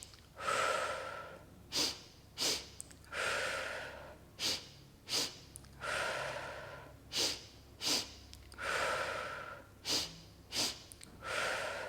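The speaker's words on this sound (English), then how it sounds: "This is a very energizing breath." Energizing yoga breathing through an O-shaped mouth: rhythmic, forceful breaths close by, alternating longer airy inhales and exhales with short sharp puffs, repeating steadily without talk.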